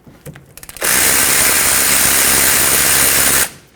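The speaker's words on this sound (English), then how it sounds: "let's remove the two 14mm bolts that hold the caliper onto the slider pin and therefore the bracket" A power impact tool runs in one steady, loud burst of roughly two and a half seconds, breaking free the 14mm caliper bolts on the rear brakes of a 2006-2010 Hyundai Sonata. A few faint clicks come before it.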